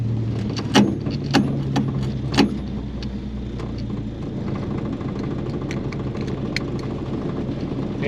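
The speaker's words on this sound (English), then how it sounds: "hear how it's idling real rough now" An AMC 258 engine in an M5 Studebaker truck idling roughly on a cheap eBay carburetor, a steady low rumble with a few sharp knocks and clatters near the start.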